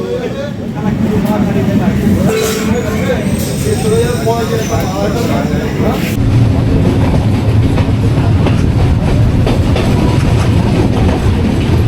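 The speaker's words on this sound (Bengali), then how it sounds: "7:14 নামখানা লোকাল আমাদের যাদবপুর স্টেশনে ঢুকে গেছে।" The Namkhana local train at Jadavpur station, with a loud, continuous rumble and the rhythmic clatter of wheels over rail joints heard from close by, and voices and station bustle mixed in.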